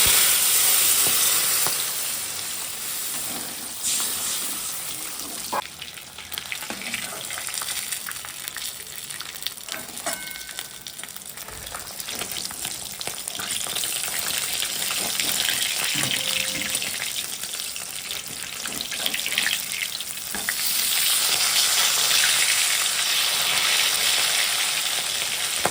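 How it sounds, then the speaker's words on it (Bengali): Spice paste for a chital fish curry frying in a pan with a steady loud sizzle, then water poured in, bringing a rushing hiss that swells toward the end. "মশলা কষানো হয়ে গেছে, এবার ঝোলের জন্য দিয়ে দিচ্ছি পরিমাণ মতো জল"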